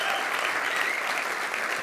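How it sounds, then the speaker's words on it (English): A conference audience bursts into applause, a thick, steady wash of many clapping hands that holds at full strength with a faint murmur of voices beneath it. "You can applaud all you want for that one"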